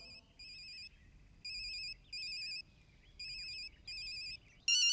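A phone ringtone plays in a Hindi film scene, sounding as a bright electronic tone in repeated bursts of about half a second with short gaps, steady and clear, with no voices over it.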